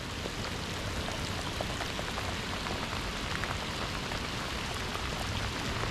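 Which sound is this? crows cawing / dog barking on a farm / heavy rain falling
heavy rain falling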